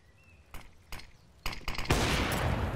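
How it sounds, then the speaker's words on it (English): Gunfire in Counter-Strike: Global Offensive during the IEM Cologne 2021 pro match between BIG and Virtus.Pro: several sharp, separate shots, followed by a loud, sustained burst of noise. "Nice shot from James"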